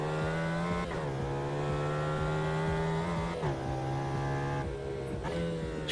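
Race car engine in the Automobilista 2 sim, revving loud and close with a strong buzzing tone that climbs, drops sharply at each gear change, and climbs again several times, heard alone.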